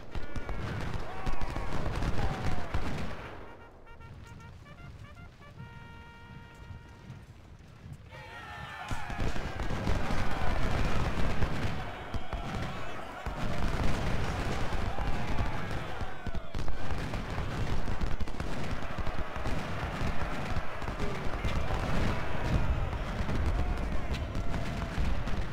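Cannon and rifle fire in Ultimate General: Civil War, Parker's Crossroads battle: loud rumbling volleys, a quieter stretch with a faint tonal sound, then the heavy booms and crackle resume and continue steadily.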